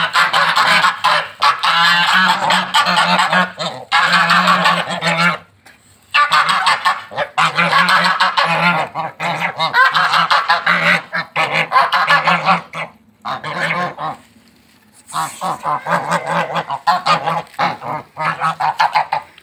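A flock of geese honks loudly and almost continuously while being fed grass in a farmyard, with a few brief pauses between bursts.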